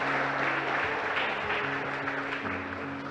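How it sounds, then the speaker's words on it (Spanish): Church congregation gives a strong round of applause to God after a sermon passage, continuous dense clapping over a low steady hum, moderately loud and sustained throughout. "Dale un fuerte aplauso a Dios por esa palabra."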